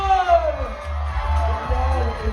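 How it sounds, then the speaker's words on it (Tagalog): Pageant audience at a male pageant opening in Makati City practising applause with cheering and shouting, a loud sustained crowd roar with whoops and yells over booming low hum. "Pa-practice nga parinig nung palakpakan na may kasamang hiyawan!"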